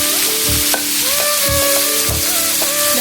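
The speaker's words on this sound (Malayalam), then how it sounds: "മീൻ വറുക്കാൻ ഉപയോഗിച്ചിരുന്ന വെളിച്ചെണ്ണയിലേക്ക് നമുക്ക് കുറച്ച് പച്ചമുളക്, കുറച്ച് ഇഞ്ചി, കുറച്ച് വേപ്പില, ചെറുതായി കഴിഞ്ഞ സവാള" Green chilli, ginger, curry leaves and onion fry in coconut oil left from frying fish, a loud close sizzle punctuated by rhythmic scraping thuds of stirring and some ringing pan tones.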